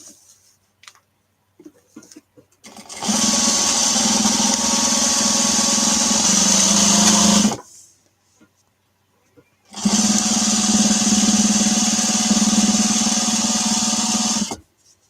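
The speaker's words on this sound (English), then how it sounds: "Can y'all hear my sewing machine that bad? It's super noisy" A noisy home sewing machine runs in two long bursts of about four and five seconds, a loud steady mechanical whir with a pause between them and faint sounds in the quiet gaps.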